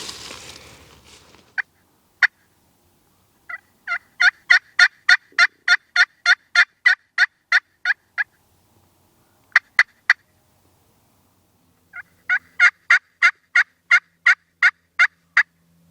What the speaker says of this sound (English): He's gobbling.